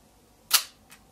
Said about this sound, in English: It's actually quite loud. People say Leica shutters are silent.